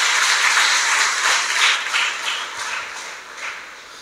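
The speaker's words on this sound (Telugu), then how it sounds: "ఒకసారి చప్పట్లు కూడా దేవుని స్తుతించండి." A church congregation applauds during a Sunday service to praise God. The clapping is dense and continuous, loud at first and then slowly thinning, with no talking.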